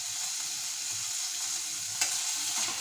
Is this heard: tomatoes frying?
yes